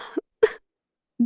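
A woman coughs from cigar smoke in three short, harsh bursts, close and separated by silence.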